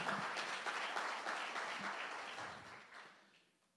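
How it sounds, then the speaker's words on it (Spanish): Church congregation applauding during a Spanish-language service, a dense wash of many hands clapping at once that stays steady and then slowly fades away toward the end. "Fuerte ese aplauso al Señor."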